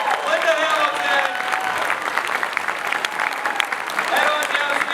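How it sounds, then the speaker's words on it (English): A Comic Con Q&A crowd applauds Linda Hamilton and Michael Biehn, with warm, sustained clapping filling the hall while someone talks over it. "Nice warm round of applause."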